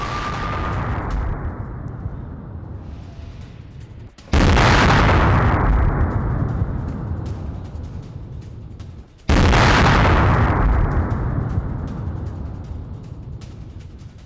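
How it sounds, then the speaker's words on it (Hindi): Artillery fire from a Ukrainian attack on Russian positions sounds as two massive, close booms several seconds apart, each hitting suddenly and rolling off in a long, rumbling decay over continuous battlefield noise. "यूक्रेन ने रूसी ठिकानों पर आर्टिलरी से हमला किया।"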